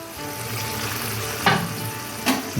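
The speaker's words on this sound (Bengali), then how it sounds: "আমি গাজরটা বেশ কিছুক্ষণ নেড়ে নেব" Carrot paste fries in a pan with a steady close sizzle while a spoon stirs it, two brief scraping strokes cutting through the frying, with no talk.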